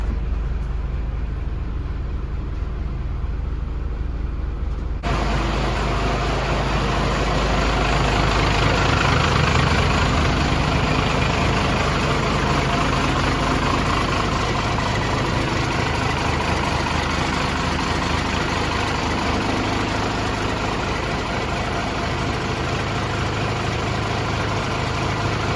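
A Cummins diesel RV engine catches and settles into a steady, heavy idle, a loud low rumble that drones on unchanged after a quieter opening moment.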